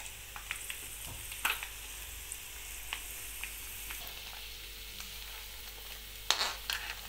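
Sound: raisins frying in a pan for sweet pongal

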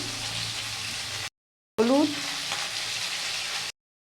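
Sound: fish frying in a pan with salt

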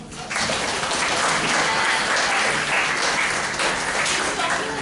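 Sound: applause for a speaker

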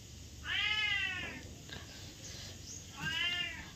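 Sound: cat meowing

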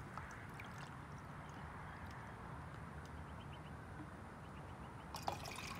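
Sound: water poured into 600 ml titanium cup

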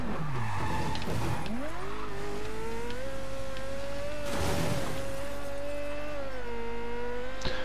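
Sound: car driving and skidding in video game Mafia 3

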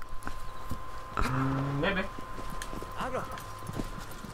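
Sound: horse hooves in video game Shadow of the Colossus

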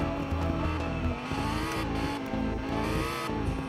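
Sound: Audi R8 V10 supercar engine in Roblox video game

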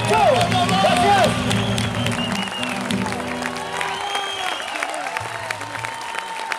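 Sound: crowd applauding at Feria de Mataderos concert

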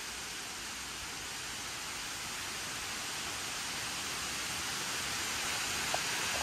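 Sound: heavy rainstorm

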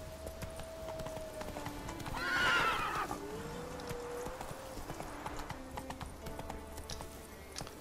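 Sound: horse Roach galloping in The Witcher 3 video game

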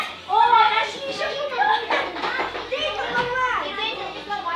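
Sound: children playing in a kids' room

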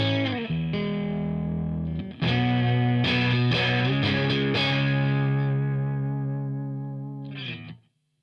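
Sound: Seymour Duncan Fooz analog fuzz synthesizer pedal, warm fuzz

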